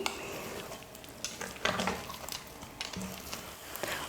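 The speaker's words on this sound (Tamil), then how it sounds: "முந்திரி நெய்யை வந்து சேர்த்து நல்லா மிக்ஸ் பண்ணிக்கிட்டேன்" Wheat flour halwa with cashews and ghee is stirred in a kadai, giving soft, close scraping and gentle sizzling with occasional louder strokes of the spoon against the pan, quiet and with no voices.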